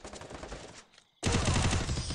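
Automatic gunfire in a shooting video game during a 4v4 match: a rapid sustained burst, a brief near-silent pause, then a louder, denser burst of shots.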